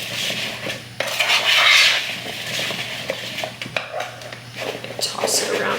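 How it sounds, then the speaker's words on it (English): Seasoned potatoes with plenty of pepper tossed in a bowl, a utensil clinking and scraping in uneven bursts, close and fairly loud, with a quiet voice murmuring now and then. "Then I just give that a good mix, and I make sure all the potatoes are coated."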